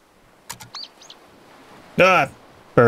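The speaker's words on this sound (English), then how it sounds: "Bird. What do you want?" A bird in the video game To The Moon gives a few short chirps and tweets, then a louder, longer squawking call near the end, with clear pauses between them.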